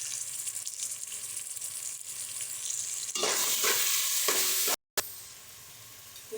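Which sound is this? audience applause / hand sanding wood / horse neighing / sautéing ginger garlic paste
sautéing ginger garlic paste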